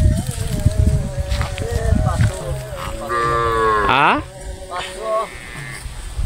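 A large herd of over five hundred cattle on a farm, several drawn-out moos close by, one rising and falling, over buzzing flies and rustling, with people talking in between.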